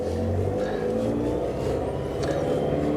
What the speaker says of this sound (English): Immediately I pick up a little bit of a whine on this one in first gear.